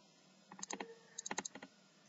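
Quick bursts of keystrokes on a computer keyboard, two short clusters of crisp clicks close to the microphone in an otherwise quiet room.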